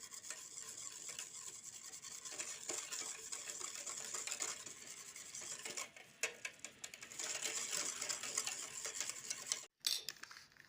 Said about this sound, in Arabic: وغادي نعاودو نخلطوا جميع المقادير